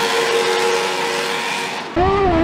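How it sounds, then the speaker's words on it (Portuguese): A 2011 Red Bull RB7 Formula 1 car with a V8 engine doing donuts on the streets of Dallas, its loud high-pitched engine note holding steady, then cutting to a wavering, revving whine. "O carro é equipado com um motor V8, que é o preferido de muita gente até hoje."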